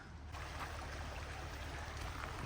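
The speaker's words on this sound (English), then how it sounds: "This little creek here" A small creek by the June Lake Loop Road on a bitter cold morning flows with a faint, steady trickling wash that stays even and unbroken.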